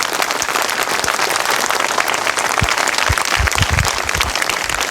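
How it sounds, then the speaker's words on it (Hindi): Dense, continuous applause from a crowd at a rally, loud and steady throughout, with a few sharper nearby claps standing out toward the end. "आप लोगों की कमज़ोर तालियों के लिए बेहद शुक्रगुजार हूँ।"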